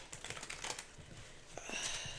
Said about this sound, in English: This is a smaller deck, and it's always hard to shuffle them.